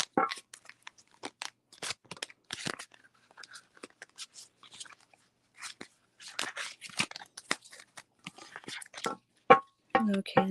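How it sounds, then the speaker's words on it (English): Tarot cards are shuffled close up in a string of crisp, irregular riffles and snaps with gaps between bursts, while a quiet voice speaks in places. "I'm going to go ahead and shuffle these cards"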